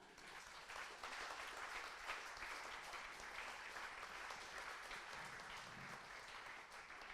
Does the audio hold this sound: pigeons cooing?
no